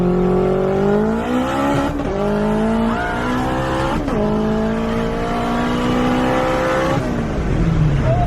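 A stock K24 AWD turbo hatchback accelerates hard in a pull, its engine loud and close, rising in pitch through each gear with brief dips at three shifts.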